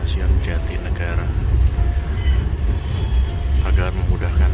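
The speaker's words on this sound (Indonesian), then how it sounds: "kereta api Gajah Wong akan tiba dan berhenti di stasiun" The Gajah Wong passenger train rolls into Jatinegara station in the early morning, a loud close rumble of wheels with faint squealing as it slows to a stop.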